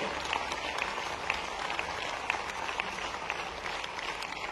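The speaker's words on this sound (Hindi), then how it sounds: "आपकी तालियां पर्याप्त नहीं है इस उदारता के लिए" Audience clapping at a Mahavir Janma Kalyanak festival in Bhopal, a steady, fairly distant patter of many hands held at an even level throughout, with no talk over it.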